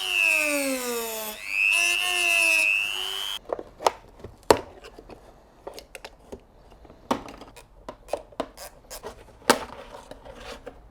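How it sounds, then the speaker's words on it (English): A plastic air duct part for a BMW E46 325i Touring being cut: a short whining tonal scrape first, then a string of crisp irregular snapping and cracking clicks, close and fairly loud. "And now I'm gonna chop off that bit there."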